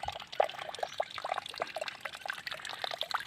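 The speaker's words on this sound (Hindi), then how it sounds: "ये हैंडपम्प से पानी अपने आप ही गिरता हुआ।" Water runs on its own from a hand pump beside the flooded Narmada river, making a light, uneven trickle and splash with scattered drips close by.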